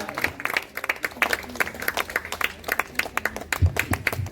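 An audience claps at a joint book launch ceremony held by Rohini Prakashan. The applause is a dense, steady patter of many hands throughout.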